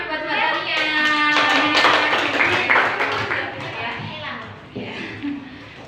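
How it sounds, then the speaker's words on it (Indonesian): Children clap in a classroom, a burst of hand claps mixed with kids' chatter and an adult voice talking over it, close and fairly loud. "Oke, tepuk tangan buat Mbak Tania."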